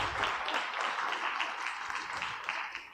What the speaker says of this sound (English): Just one round of applause for all our challenge owners.